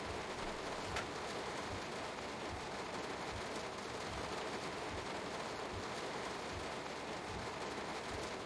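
Rain heard from inside a BR 422 S-Bahn train running as the S1 between Duisburg and Essen, a steady dense patter over continuous low rumble and a regular rhythmic thump from the running gear.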